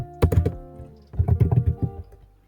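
Typing on a computer keyboard during a Python programming lesson: two quick bursts of close, crisp key clicks separated by a short pause, alone with no talking.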